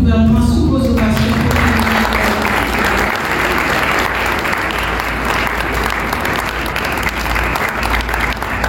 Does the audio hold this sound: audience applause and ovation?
yes